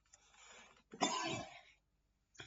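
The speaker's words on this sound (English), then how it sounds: "I've got a bit of a cough at the moment." A single throaty cough, preceded by a softer clearing of the throat, close to the microphone in otherwise quiet surroundings.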